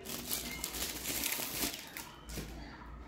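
Plastic wrapping being torn and crinkled off a colour-edition hardback biography, steady close rustling and crackling with a few sharper tearing bursts, no talking.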